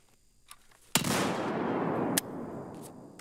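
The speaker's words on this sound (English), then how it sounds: "You never know when you need your holstered shotgun." A shotgun blast rings out in a first-person shooter video game, one loud sudden report that holds a long, noisy decay, followed by a second sharp crack and faint clicks.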